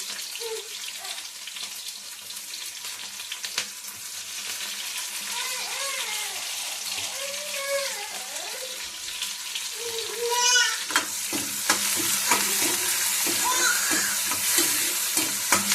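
Spices crackle and fry in hot oil for a cumin tempering in a home kitchen, a light continuous sizzle with stirring clinks and some watery handling noises, moderately close.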